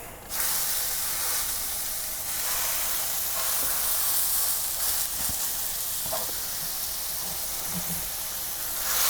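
Loud, constant sizzling hiss of smash burger meat frying on a hot griddle. A few faint clicks and knocks sound through it, with no talking.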